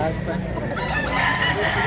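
A two-year-old rooster crows amid steady, dense background noise on a rainy day, with possible voices mixed in.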